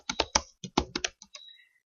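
Quick keystrokes on a computer keyboard as a layer name is typed, about nine crisp taps in an uneven burst that trails off into silence, close and fairly loud with no talking.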